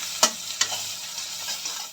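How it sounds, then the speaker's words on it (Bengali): Chopped onions frying in oil with salt, bay leaves and dried chillies, a steady sizzle broken by two sharp spatula knocks against the pan early on. "পেঁয়াজটা কিন্তু লাল লাল ভাজা হয়ে গেছে"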